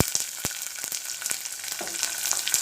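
Onion frying in a pan of oil, a steady close crackling sizzle punctuated by quick ladle taps and stirring scrapes, with no voices.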